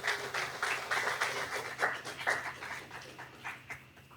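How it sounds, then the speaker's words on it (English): An audience at a presentation in Royal Oaks, Sun City, Arizona gives a brief round of applause: a modest, close group of hands clapping in a rhythm that swells and fades over a few seconds. "she put a big applause for Nada, please."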